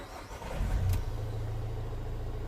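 A 2015 Vauxhall Vivaro 1.6 CDTi diesel van with a stalling fault cranks briefly and catches, then settles into a steady, close, low idle rumble.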